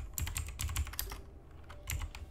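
Keys clack in quick bursts on a computer keyboard, a close, moderately loud run of taps with a short pause midway, while a user types a search into a browser.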